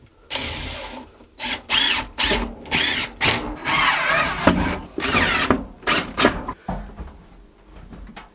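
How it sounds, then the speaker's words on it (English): A power drill drives a couple of screws into wood while mounting a propane on-demand hot water heater in a tiny house, with loud, close whirring bursts of about a second each, stopping and starting repeatedly and no talk. "I'll just put a couple screws in this"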